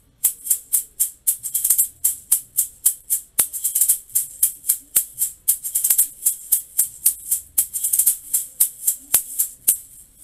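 Orchestral shaker playing a quintuplet bolero pattern, with crisp, even shakes grouped in a steady repeating rhythm. It sounds close and clear, alone for about ten seconds with no talking.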